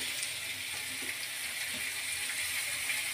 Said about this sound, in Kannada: ಟೊಮೊಟೊ ಚೆನ್ನಾಗಿ ಫ್ರೈ ಆಗಲಿ